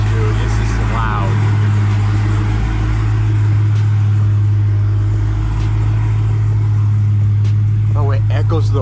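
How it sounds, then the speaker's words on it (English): A 1000hp Dodge Challenger Hellcat Redeye driving through a hillside street, its engine a loud, steady, deep rumble from inside the car throughout, with people talking over it. "Guys, this car is so loud."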